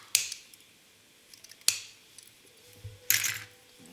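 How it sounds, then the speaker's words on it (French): Scissors snipping a plastic part from a Revell 1/25 scale Mitsubishi Eclipse model car kit: three crisp, separate cuts spaced over a few seconds, close and fairly quiet. "Donc je vais couper là et là."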